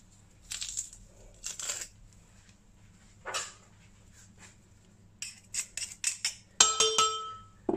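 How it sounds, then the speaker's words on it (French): Garlic cloves pressed while cooking a fish pastilla, heard as a few crunchy, squeezing bursts with clinks of a glass or metal press, close and fairly quiet, ending in sharper clattering taps. "on va également presser donc les gousses d'ail"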